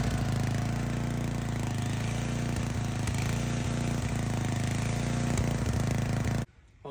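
A generator engine runs steadily after being flashed, a loud, even mechanical drone with a rattling hum that continues without pause and then cuts off abruptly near the end.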